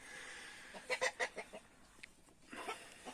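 Hens cluck in short, irregular bursts, several close together then scattered, with a soft farmyard background and no talking.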